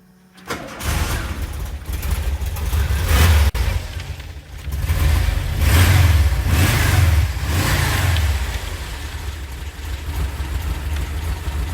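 A VW Vanagon T25 van engine catches and is revved repeatedly by the accelerator pedal after an accelerator cable adjustment, several loud surging swells rising and falling over a rough idle, close by and without speech.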